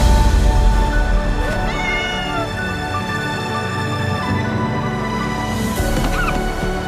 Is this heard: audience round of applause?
no